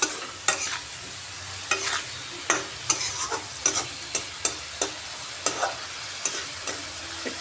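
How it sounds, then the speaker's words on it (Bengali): Spice masala for a rohu fish and bathua greens dish is stirred and fried in a pan with very little oil, giving a steady sizzle broken by repeated sharp scraping strokes of the spoon, close and alone. "সব কিছু দিয়ে এখন মশলাটাকে খুব ভালো করে কষিয়ে নিচ্ছি।"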